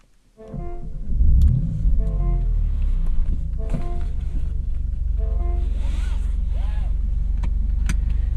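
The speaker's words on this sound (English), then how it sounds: "And the Nettuno engine comes to life." The Nettuno engine of a 2024 Maserati GranTurismo Trofeo PrimaSerie starts with a sudden deep rumbling surge, then settles into a steady, loud, low idle while a person talks over it.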